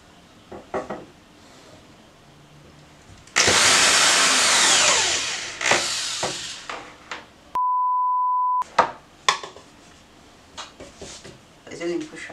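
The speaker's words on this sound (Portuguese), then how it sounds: "eu vou furar pra gente poder pendurar" A power drill bores a hole through a small handmade craft house for a keychain, a loud sustained whir for about two seconds, followed by a short steady electronic beep and scattered clicks and handling knocks.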